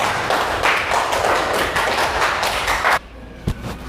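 Classroom of students applauds a presenting group, dense close clapping that runs steadily for about three seconds, then cuts off abruptly, followed by a single sharp tap.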